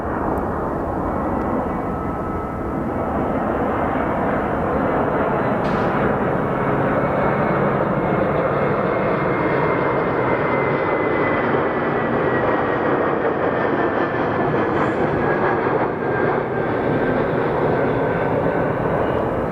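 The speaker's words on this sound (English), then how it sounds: "As our Frontier flight is making its arrival" A Frontier Airlines jet arriving at Phoenix Sky Harbor Airport roars steadily, a loud, continuous engine rush with a faint rising whine, heard alone throughout.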